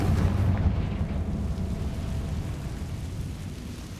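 A fire spell explodes in the Hogwarts Legacy video game, a loud, rumbling blast that fills the whole stretch with dense low booming and slowly fades without clearing.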